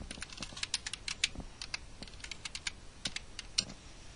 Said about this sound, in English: type in the file name